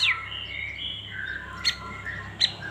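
A green leafbird (cucak hijau) gives a run of clear, whistled chirps followed by two short sharp notes, moderately near against a quiet background.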